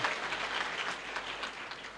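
A large crowd at a student felicitation event claps loudly and steadily, a dense continuous wash of applause filling the whole stretch with no voices.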